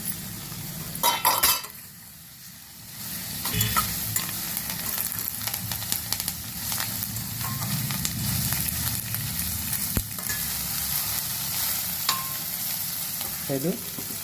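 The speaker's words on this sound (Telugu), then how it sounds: "ఇప్పుడు క్యాప్సికమ్ ముక్కలు వేస్తున్నాను." Capsicum pieces frying and sizzling in a hot pan with curry leaves for capsicum tomato rice, a steady close hiss with occasional stirring scrapes and light clinks of a utensil against the pan.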